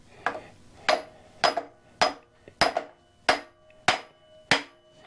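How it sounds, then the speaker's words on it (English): A dead blow hammer drives a wood lathe shaft through a bearing in eight sharp, evenly spaced blows, close and loud, each with a short ringing decay. "And then with my dead blow hammer"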